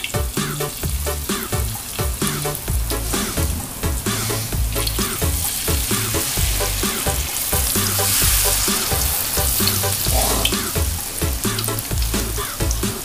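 Steady, loud sizzling and crackling of shrimp crackers (peyek udang) deep frying in hot oil, continuing without pause and with no talking.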